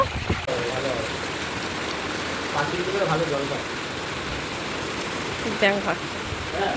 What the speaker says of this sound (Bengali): বৃষ্টিও নেমেছে রে